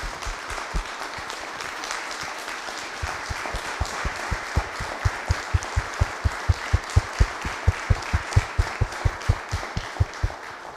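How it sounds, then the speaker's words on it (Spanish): Audience applauding a Malvinas war veteran at a geopolitics talk, a full hall clapping continuously, gradually settling into rhythmic unison claps that grow louder toward the end. "que le demos un fuerte aplauso"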